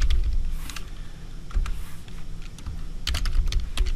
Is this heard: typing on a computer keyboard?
yes